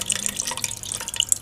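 About a tablespoon of Worcestershire sauce poured into ketchup for a balsamic barbecue sauce, heard as a brief run of close, faint liquid drips and splats in a quiet kitchen.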